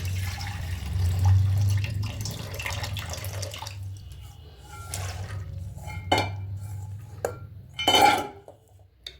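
Potatoes and peas tipped into a pot of water for vegetarian ghugni, a close splash and clatter of pieces dropping in with scattered clinks of utensils against metal, fading and then returning in short knocks.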